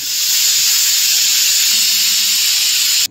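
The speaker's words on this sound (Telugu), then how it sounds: "ఒక 2 విజిల్స్ వచ్చే వరకు మూత పెట్టేసుకోవాలి" A pressure cooker whistles with a loud, continuous hissing blast of steam while soya chunks pulao cooks, steady for about three seconds before it cuts off abruptly.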